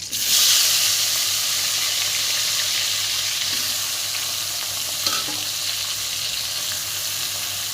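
Onions frying for a do-peyaji in oil left from frying fish, hissing strongly at first, then settling into a steady sizzle with a few stirring clicks, close up and without talk.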